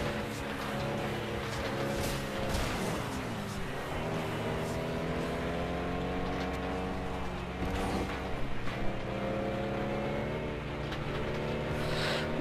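Racing cars in the video game FlatOut 2 roaring through laps of an urban race, engines droning loud and continuous with rising and falling pitch and occasional clanks of contact.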